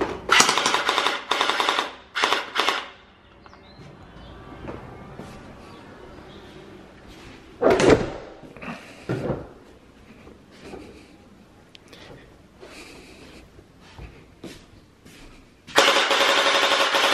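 A cheap $27 gel blaster toy gun fires outdoors in rapid bursts during a fire rate test, loud and close, with rattling volleys at the start, scattered single shots in the middle and a final sustained burst.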